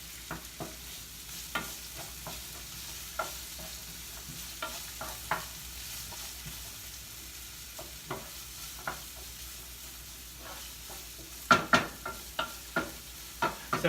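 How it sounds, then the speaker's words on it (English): Onion and garlic sauté quietly in a pan for pasta meat sauce, with a low sizzle beneath repeated spoon taps and scrapes that grow louder near the end. "once the onion is a little translucent, we're gonna add the garlic. And saute that too."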